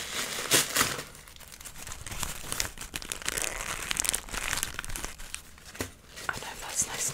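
Paper crinkles and rustles as it is pulled out of a shopping bag, close and continuous with sharp crumpling bursts, with a voice speaking softly at times.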